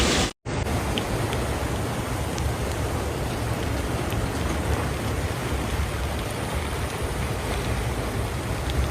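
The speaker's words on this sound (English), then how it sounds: "heavy to torrential rain fell continuously across Wuhan" Heavy torrential rain pours down steadily in Wuhan during flooding, a loud, dense and unbroken roar after a brief dropout near the start.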